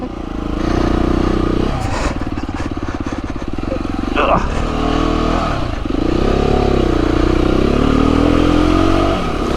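A motorcycle engine idles loudly up close, then revs and climbs through gears as it pulls away on a group ride, with wind rumble and a voice speaking over it.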